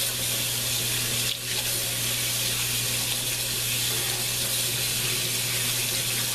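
Cold tap water pours steadily onto fish skin being rinsed after an ammonia bath, a constant loud rushing stream close by with a low hum underneath, heard without any talking.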